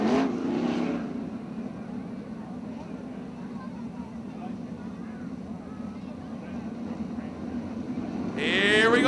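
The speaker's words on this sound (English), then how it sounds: "Here we go, Mike Linder goes up top" 410 winged sprint cars race at Attica Raceway Park on a dirt oval, a continuous droning engine roar from the pack that swells louder near the end as cars pass close, heard under a steady stream of race commentary.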